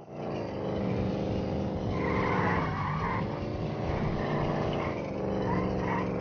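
Car tires squeal and skid in Grand Theft Auto Online gameplay, a sustained screeching slide over a rumbling engine, steady and fairly loud for several seconds.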